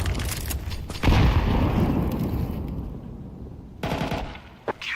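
A grenade blast in a video game, a loud booming explosion that rumbles and decays over a couple of seconds, set among rapid gunfire bursts and sharp shots nearby, with no voices.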